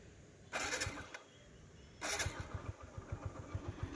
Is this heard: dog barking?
no